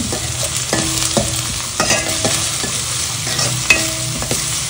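Crushed garlic and ginger sauté in a pan with a constant close sizzle, while a spoon stirs and scrapes against the metal in repeated short strokes.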